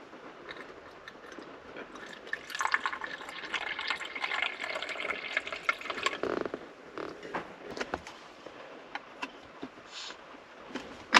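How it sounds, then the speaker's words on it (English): Hot espresso poured into a cup, a steady soft liquid stream building and fading over several seconds, close and quiet, ending with small clinks and taps. "So I'm gonna pour it, hopefully, very carefully"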